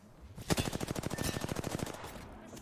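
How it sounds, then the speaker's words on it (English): Enemies in a video game fire on the player in a long rapid burst of automatic gunfire, about twenty evenly spaced shots that start with a loud crack and rattle on steadily before stopping. "They're shooting at me."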